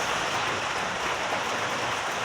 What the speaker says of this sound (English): The rain is falling.